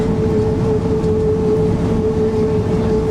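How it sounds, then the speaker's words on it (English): A loud, steady train rumble with a sustained tonal hum, close by and continuous throughout. "the front of the train is passing it now"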